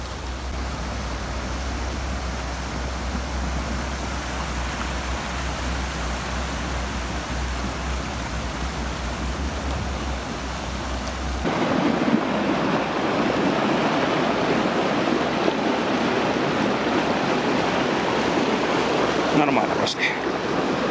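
Front-wheel-drive Lada Niva fording a river, a continuous loud rush of churning, splashing water mixed with engine noise and wind buffeting the microphone, steady throughout with a shift in texture midway.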